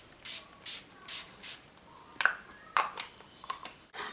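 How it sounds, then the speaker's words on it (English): Four quick, close spritzes of Mecca Max Life Proof setting spray in an even rhythm, followed by softer handling clicks and light rubbing sounds. "Setting spray, which I'm just going to use the Life Proof setting spray by Mecca Max"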